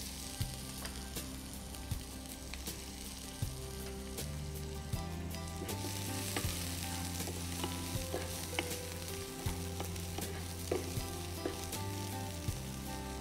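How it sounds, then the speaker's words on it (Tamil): Onion and ginger sauté in hot oil with bay leaf, cinnamon, star anise and cloves, giving a steady close sizzle and crackle with occasional stirring, and no voices. "இந்த பேலீஃப் இதெல்லாம் போட்டு அந்த வெங்காயத்தோட இஞ்சியும் போட்டு வதக்கக்குள்ள நல்லா வாசனையாக வரும்"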